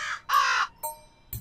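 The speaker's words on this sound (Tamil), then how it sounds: "என்னப்பா காக்கா நம்மள கூப்பிடுது?" A crow caws three times, two long harsh calls followed by a shorter one, close and clear, then a faint brief knock at the end, with no talking.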